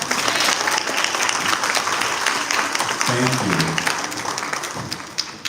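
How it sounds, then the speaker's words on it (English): A church congregation at a Garifuna Settlement Day Mass in Los Angeles applauds the choir with sustained, dense clapping, a brief voice speaking over it midway before the applause tapers off. "You may clap for our choir."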